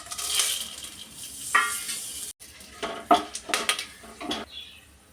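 Whole cloves, cinnamon and bay leaf dropped into hot oil for a toor dal pulao give a broad hiss up front, then a series of sharp metallic pan and spoon clatters while the spices fry, with no voices.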